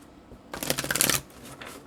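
A deck of tarot cards is riffled in one quick, crisp burst lasting under a second, soft and close against a quiet background.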